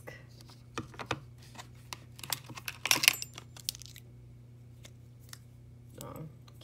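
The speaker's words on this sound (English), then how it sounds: "Keys." A set of keys handled while sorting through organizers, scattered light jingles and clinks with one busier burst in the middle, close and fairly quiet, with someone speaking.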